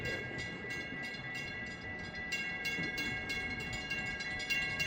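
A northbound train passes a level crossing at Magnolia, a steady rolling rumble with rhythmic wheel clatter, heard from some distance and fairly quiet overall.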